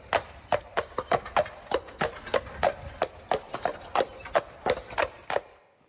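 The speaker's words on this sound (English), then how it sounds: "So what is the rhythm of a horse walking?" A horse walking with a steady, swinging clip-clop of hooves, many crisp close hoof strikes in an even four-beat rhythm, with no talk.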